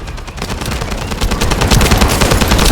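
Rapid automatic gunfire from the shooter game The First Descendant rattles in close, loud bursts that build slightly in intensity over a few seconds.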